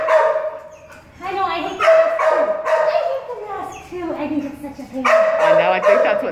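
Dogs bark and yip in short repeated bursts with some whimpering, close and fairly loud, while people talk over them.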